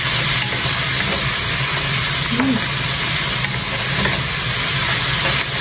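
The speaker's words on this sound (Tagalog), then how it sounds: "So, ginisa ko muna talaga siya." Steady, loud sizzle and hiss of food sautéing in a pan while odong noodles with tuna are prepared in a home kitchen, continuous and close with no talking.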